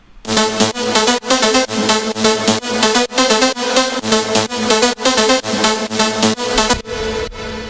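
A bright, layered synth lead plays a chord melody, pumping rhythmically with sidechain ducking on each beat, then cuts to a brief tail at the end.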